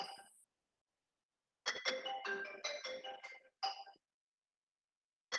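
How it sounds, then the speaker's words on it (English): A phone ringtone sounds during a maths lesson, a bright electronic chiming melody that plays in two bursts separated by silence, fairly clear and close. "Sorry, someone is ringing."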